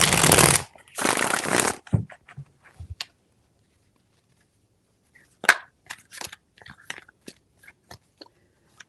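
Tarot cards being shuffled in a reading: two long, loud riffling bursts close up, then scattered soft taps and card handling, a quiet pause, and more light clicks and flicks.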